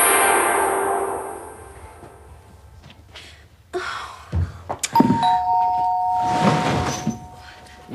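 A doorbell in a children's television show rings with a two-note ding-dong chime near the end, clear and moderately loud among scattered bumps, rustles and breathy background sounds.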